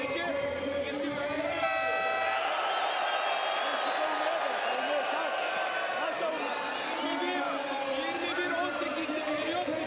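A crowd roars steadily at a London 2012 Paralympic men's wheelchair basketball game between Turkey and Spain, with loud cheering, horns and whistles filling the arena throughout while voices call out over the din.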